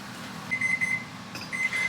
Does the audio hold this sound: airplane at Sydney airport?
no